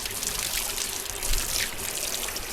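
Cold water from a free public water supply trickles and splashes steadily at close range, a continuous hissing, bubbling flow with no voices.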